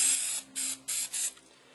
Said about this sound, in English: grab your spray paints